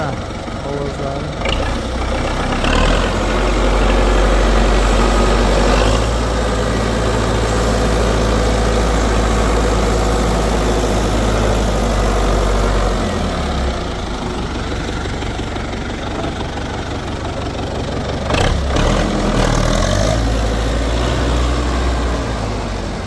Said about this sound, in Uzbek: Motor ovozimizdan juda chiroyli holatda yurib turibdi